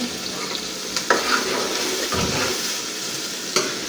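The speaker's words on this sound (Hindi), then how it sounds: "मम्मी करते हैं इसको थोड़ी देर फ्राई" Bitter gourd (karela) fries in a pan with steady sizzling and occasional stirring scrapes, close and moderately loud throughout, with no one speaking.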